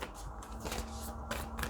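Tarot cards being shuffled close up, a few quick riffling bursts with soft papery slides between them and a faint steady hum underneath.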